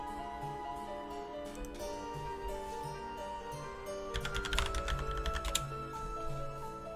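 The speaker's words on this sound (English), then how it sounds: "typing in Discord, actually." Rapid clattering keystrokes on a computer keyboard from someone typing in Discord, a steady patter of small clicks that thickens into a denser burst midway, heard under a constant low hum without speech.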